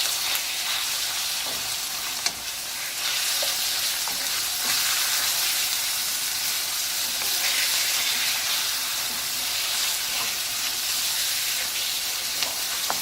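Minced meat keema frying with softened onions in a pan, giving a dense, continuous close sizzle with a faint hiss of steam and a few small clicks.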